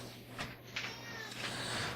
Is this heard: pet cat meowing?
yes